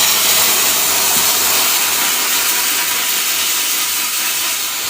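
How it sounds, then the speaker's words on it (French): White wine poured into a hot pan for a coquillettes risotto gives a loud, steady bright sizzle and hiss close up, holding evenly for several seconds without talking. "Donc là, je rajoute le vin blanc"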